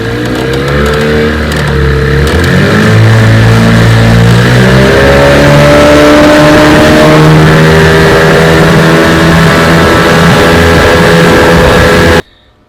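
A restored 1993 Johnson outboard motor runs loud and steady on a john boat, its drone shifting pitch as it revs and settles, then cutting off abruptly at the end.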